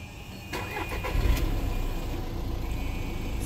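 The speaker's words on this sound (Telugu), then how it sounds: "సింగిల్ సెల్ఫ్ ఇంజన్ అనేది స్టార్ట్ అయిపోయింది" A 2018 Volkswagen Polo Highline Plus diesel engine cranks briefly and fires, then settles into a steady, fairly quiet idle, heard close with no talking.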